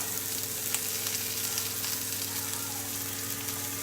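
Asparagus tossed in a frying pan hisses with a dense, steady sizzle close up, a few faint clicks and shuffles from the pan underneath.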